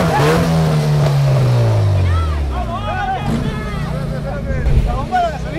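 Quarter-mile drag race car pulling away with its engine hanging loose, a loud falling engine roar that fades out, followed by excited voices talking over crowd noise.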